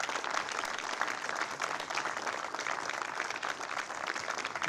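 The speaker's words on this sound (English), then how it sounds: "let's give them a round of applause" Applause for first responders at a September 11th remembrance ceremony, a continuous, even wash of many hands clapping from a crowd, moderately distant and sustained throughout.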